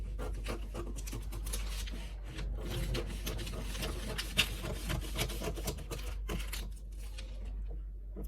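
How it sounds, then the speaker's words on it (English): Scissors cut a dart out of a paper pattern for plus-size bra cups, making soft, close, repeated snipping and rustling sounds at a low level. "Cut the dart out on the side."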